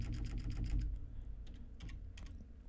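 Keystrokes on a computer keyboard while renaming a file on a Windows PC, a quick run of clicky taps, busiest in the first second and then sparser, close and fairly quiet.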